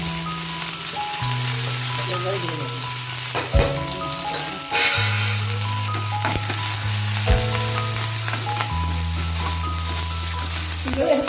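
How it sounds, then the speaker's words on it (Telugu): Curry leaves with green and dried chillies fry in hot oil for an Andhra-style capsicum coconut curry, a steady close sizzle and crackle running the whole time over sustained background tones. "అందులో కరివేపాకు, పచ్చిమిర్చి, ఎండుమిరపకాయలు కూడా వేసి వేయించేసుకోవాలి శుభ్రంగా"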